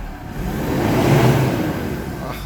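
A Mazda BT-50 pickup engine, just restarted after a no-crank, no-start fault, runs close up with a steady, loud mechanical drone that swells briefly as it revs, then settles again.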